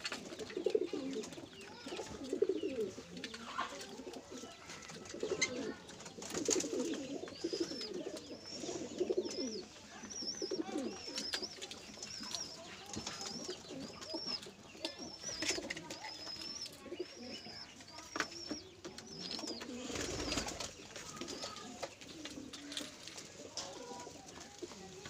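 Faisalabad pigeons coo repeatedly at close range in soft, low, throaty rolls over quiet background noise, with no talking.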